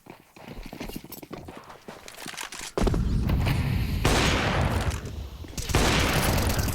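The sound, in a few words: gunshots in the video game Counter-Strike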